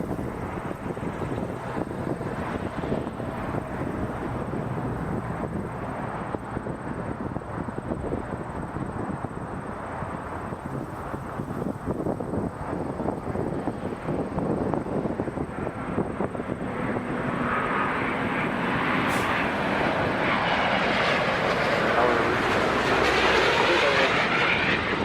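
A WestJet Boeing 737 MAX 8 jet at Toronto Pearson Airport produces a broad, continuous engine roar that builds steadily in loudness toward the end, heard from a distance outdoors without clear speech.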